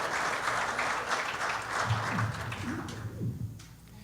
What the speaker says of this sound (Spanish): Dele un aplauso a Jesucristo en esta mañana.